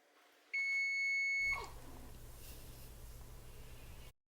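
A single sustained electronic kitchen-timer beep sounds for about a second, clear and close, followed by a low steady hiss.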